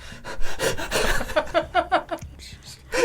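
A human voice imitates a panting child, giving a run of quick, rhythmic breathy gasps close to the microphone, loud and without other talk.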